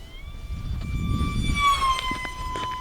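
An E-flite UMX A-10 Thunderbolt II 30mm EDF RC jet at full throttle gives a thin, steady electric ducted-fan whine that sweeps slightly in pitch as it zips past overhead, over a low rumble of wind and background.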